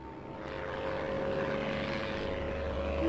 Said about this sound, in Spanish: Es agradable oír a los aviones, ¿no?